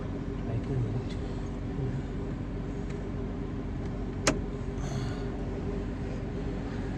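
A car drives along on a rainy morning, its low, steady engine and road rumble heard from inside the cabin, with one sharp click partway through.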